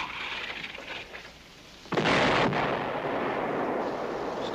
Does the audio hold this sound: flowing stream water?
no